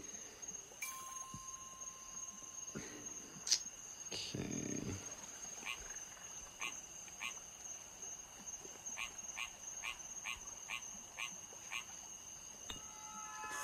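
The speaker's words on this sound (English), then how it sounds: "Frog. He's a cute frog." A small cartoon frog in the puzzle game Rusty Lake Paradise croaks in a run of short, evenly spaced calls over a quiet ambient game backdrop with a steady high tone, moderately faint throughout.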